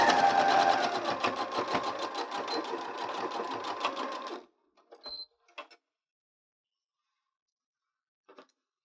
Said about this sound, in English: I'm just sewing right along that fold.